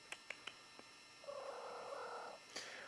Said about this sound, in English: as you can see, Mike's cat is very, very happy this morning